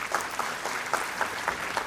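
Audience applause for children at a kids' school annual day event, a brief burst of many hands clapping with a few sharper individual claps standing out, steady and close throughout.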